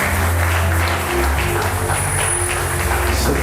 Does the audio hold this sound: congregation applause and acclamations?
yes